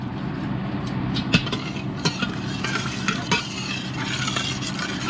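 Chicken broth is stirred in an Instant Pot, a close, steady swishing and scraping of the spoon with a few clinks against the metal pot.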